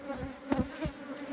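Bees buzz at a wild bee nest full of honey inside a rock crevice on a cliff, a steady close drone with a few louder swells and no voices.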